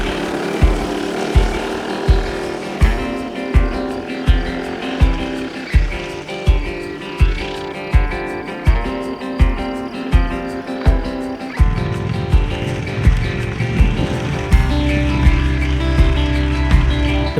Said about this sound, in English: I took the opportunity to stop and film the other guys driving past me a few times